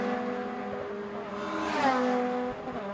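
Civic Cup race cars at Snetterton in 2018, their engines droning in a steady harmonic howl, with one car sweeping past close by midway through as the pitch rises and falls before the field settles back to a continuous roar.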